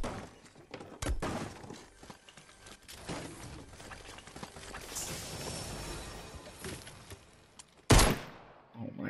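Pistol fire in the video game Fortnite: several sharp cracking shots spaced unevenly over quieter game ambience, with one loud crack near the end and some talk in between.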